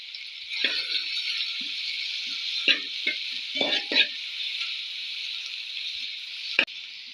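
Curry leaves dropped into hot oil for a chicken curry give a steady close sizzle, broken by a few sharp crackles and stirring clinks, with no talk.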